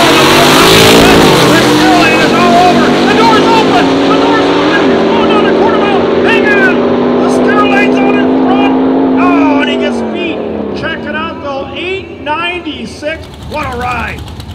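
A loud big block Chevrolet engine in a 1962 Corvette gasser race car roars at high revs, holding a steady pitch before dropping and sputtering as it eases off.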